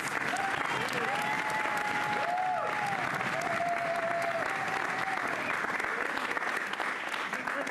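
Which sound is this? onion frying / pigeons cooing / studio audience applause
studio audience applause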